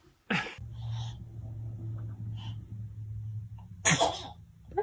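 A baby sneezes twice, small sharp bursts at the start and near the end, close by over a low steady hum with faint breathy sounds in between.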